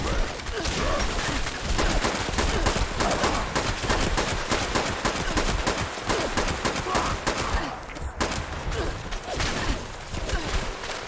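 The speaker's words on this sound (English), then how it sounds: "God, stop with the frickin' minigun" Minigun fire in the video game Fallout 76: a loud, unbroken stream of rapid gunfire that fills nearly the whole stretch with only a brief dip near the end.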